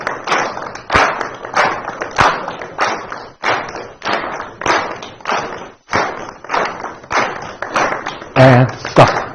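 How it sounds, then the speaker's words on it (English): A group claps in a steady double-time rhythm, with roughly a dozen sharp, loud bursts spaced evenly and close by. Some percussive thumps sound alongside, and a brief voice cuts in near the end. "Clap, clap."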